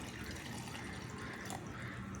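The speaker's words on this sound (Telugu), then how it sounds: "వాటర్ పోసేసుకుందాం" Water pours steadily into a bowl for making ragi porridge, a soft continuous splashing with no talk.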